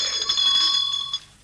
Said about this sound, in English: I better ring the bell.